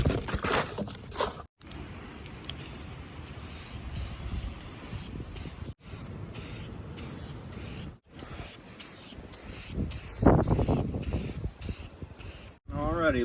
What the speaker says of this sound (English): Alright, well, we got the rattle can in the gas tank.